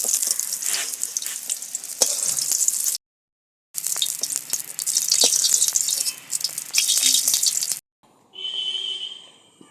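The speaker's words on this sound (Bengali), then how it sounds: "হালকা করে ভেজে নিয়েছি, এবার এগুলো উঠিয়ে নেব।" Vegetables sizzle lightly in oil for a vegetarian dal, a steady close crackle with stirring, broken by a short silent gap and ending in a different quieter tonal hiss.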